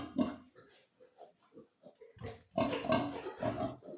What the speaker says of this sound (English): As you can see, this is the piglets.